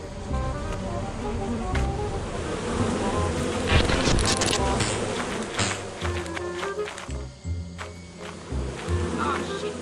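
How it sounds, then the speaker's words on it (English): Loud buzzing of a beehive swarm in the video game Lethal Company fills the scene, continuous and close, with players talking and shouting over it. "I guess I'll get the bees!"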